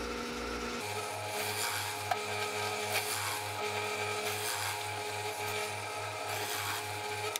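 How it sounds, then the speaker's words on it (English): A plug cutter in a drill bores plugs out of poplar wood, giving a steady, rasping cut with a rhythmic grinding pulse. It starts abruptly after a short motor whine and continues close and loud without talk. "I decided to test cutting plugs out of poplar"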